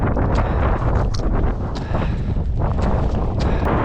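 Strong wind roars across the narrow summit of Szpiglasowy Wierch in the Tatra Mountains in winter, a loud continuous buffeting rush that hits the microphone directly.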